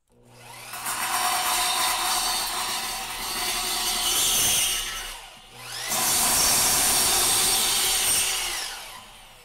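A lathe cutting a cymbal, two long loud passes of harsh, bright metallic scraping with a whirring drone beneath, separated by a brief dip, close and continuous with no talking.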